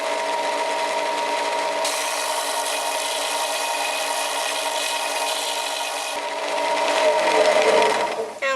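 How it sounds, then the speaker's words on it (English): Plastic pipe couplings for a backyard roller coaster being sanded down with a powered tool: a steady motorized hum with a rasping scrape that grows into a louder grinding burst near the end. "so we're sanding them down just a little"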